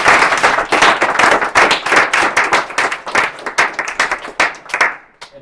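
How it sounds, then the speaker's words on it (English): Warm audience applause at a meetup talk, close and loud with distinct individual claps in a steady patter that thins out and stops near the end. "So I would say another warm applause for Sebastian."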